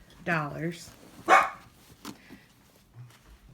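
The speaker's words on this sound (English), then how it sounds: "Beans, stop barking." A dog barks close by, first a drawn-out yelping bark and then a sharper single bark, over quiet background noise.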